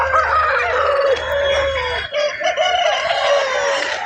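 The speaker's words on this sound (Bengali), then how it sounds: "এখানে একটা দারুণ মুরগা দেখতে পেয়েছি" Rooster crowing and clucking at a busy Tuesday village livestock market in Balrampur, with a low rumble under the first half, then a steadier crowd hubbub; loud and close throughout.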